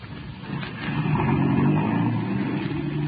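A car driving along a road in a 1937 radio drama, a steady loud engine rumble that swells slightly midway and holds, close and continuous with no voices.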